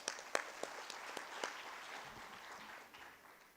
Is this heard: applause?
yes